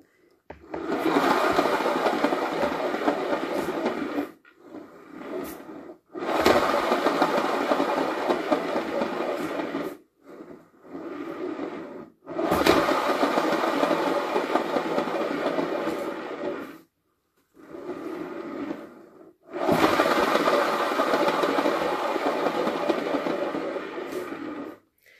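A spinning machine whirls paint to stretch it for a bloom painting, running in several loud bursts of steady mechanical whirring separated by short pauses.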